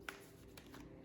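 A deck of cards being shuffled by hand, a quiet papery riffle with a few soft bursts over about a second, heard alone without talk.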